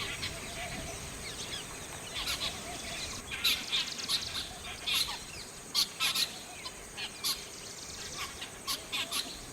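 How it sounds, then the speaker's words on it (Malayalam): Parrots, mynas, babblers and squirrels call in a bird-filled spot, sharp squawks and chattering bursts repeating irregularly over a steady hissing background, moderately close. "ഇപ്പോൾ തത്തകളും മാടത്തകളും അണ്ണാനും കരിയിലെ കിളികളും"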